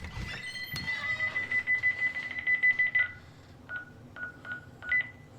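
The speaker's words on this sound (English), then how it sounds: "my freaking alarm's going off. Hold on, man. This alarm is driving me freaking nuts." Loud electronic beeping from a home security alarm keypad, a steady run of pulsing tones followed by several shorter separate beeps.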